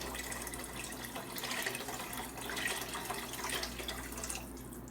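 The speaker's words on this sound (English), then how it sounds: "I'm gonna put some water in here." Water from a kitchen tap runs steadily into a 2.5-liter soup pot, a continuous close splashing rush with a slowly shifting tone as the pot fills.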